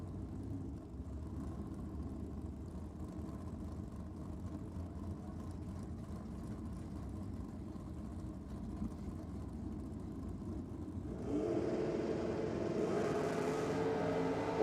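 Engines of a black Holden VL and a Ford Cortina drag car rumble steadily on the line at Sydney Dragway, then swell into a louder, fuller roar near the end as they launch, with no voices.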